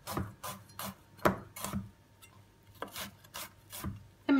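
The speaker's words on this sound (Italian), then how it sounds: "Tagliarlo grossolanamente." Rhythmic knife chops through garlic on a wooden board, about ten crisp strokes in a steady pattern, close by with no talking.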